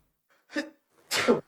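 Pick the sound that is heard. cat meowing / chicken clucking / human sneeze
human sneeze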